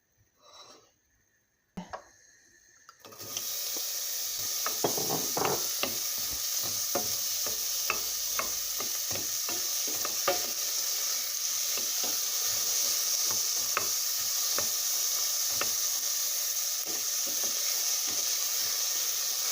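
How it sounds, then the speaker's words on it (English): Coconut oil warms in a saucepan, giving a steady bright sizzle and hiss that begins abruptly after a few quiet seconds. Scattered crackles and pops rise above it, close and continuous. "We got now here the coconut oil that is already warming"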